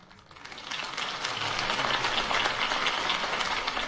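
Crowd applause builds from quiet to steady loud clapping after Harvey Dent's campaign speech in Batman: The Telltale Series, a dense continuous wash of many hands.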